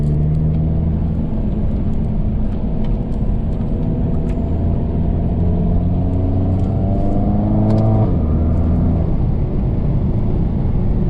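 A turbocharged MK7 Volkswagen GTI with a GTX3071R turbo drives steadily, its engine droning loud and continuous. The pitch climbs under acceleration, then drops sharply at a gear change and starts rising again.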